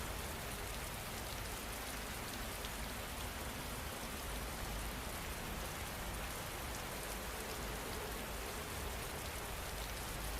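Rain falls steadily in an even, soft hiss with a constant spatter, fairly faint and unbroken throughout, with no thunder or voices.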